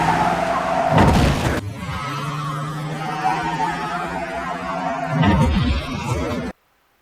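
A car crash scene from the 2018 Halloween film, slowed down, with loud skidding and tire squeal, crunching impact bursts, and a sustained engine drone between them before an abrupt cut to silence.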